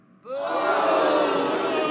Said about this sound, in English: Shut up, crowd.